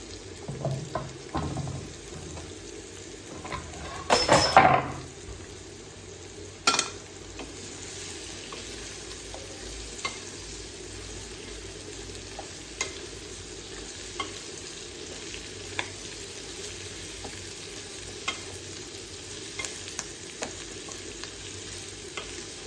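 Bitter gourd, half a kilo, frying in a pan, with a burst of clattering stirring early on, then a soft steady sizzle with scattered faint clicks for a long stretch.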